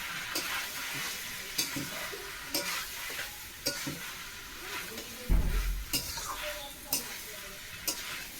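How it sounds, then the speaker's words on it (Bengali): Jackfruit pieces frying with spices in a covered pan, a continuous close sizzle punctuated by regular spatula stirs and scraping knocks against the metal, with no speech over it. "এবার আস্তে আস্তে ভেজে ভেজে ঢেকে ঢেকে কষাবো।"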